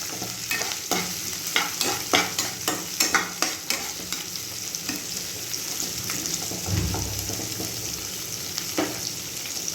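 Onions fry in a pan, softening and browning as they are stirred. A steady close sizzle runs throughout, broken by a regular series of scraping stirring strokes, with no talking.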